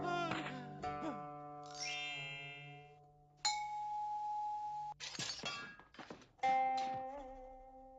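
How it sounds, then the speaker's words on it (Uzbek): A bell in a cartoon rings out in several clear, sustained tones with sharp metallic strikes between them, each ring fading slowly, bright and cartoonish. "Vah, nima degan esil qo'ng'iroq bu?"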